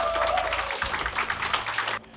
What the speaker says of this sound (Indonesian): Tuh, tepuk tangan dong.